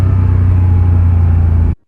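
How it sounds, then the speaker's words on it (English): A 1988 Porsche 911 Carrera's air-cooled engine drones loudly and steadily while driving, a dense low rumble with a constant note that cuts off abruptly near the end. "And that engine note is incredible."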